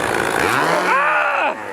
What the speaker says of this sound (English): I would say she's got a chainsaw